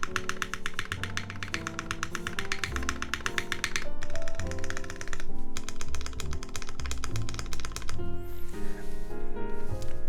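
Steady clacky typing on an Axiom Studios Typ65+ prototype mechanical keyboard, rapid keystrokes in bursts with brief pauses, close and clear.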